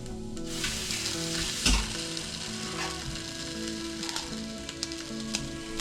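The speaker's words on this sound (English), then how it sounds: "just stir fry the pork meat. Just only stir fry like a golden brown" Pork meat stir-fried until golden brown for Filipino pork sinigang, a dense close sizzle with bursts of scraping and stirring, one louder clatter early on, no voices.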